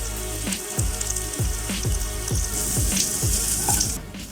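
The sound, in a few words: flour bits frying in oil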